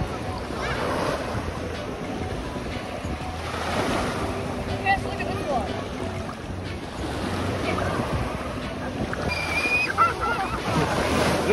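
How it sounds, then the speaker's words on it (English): Ocean waves break and surge at Oval Beach in August, with heavy wind buffeting the microphone and faint voices now and then. "Look at all the big waves today."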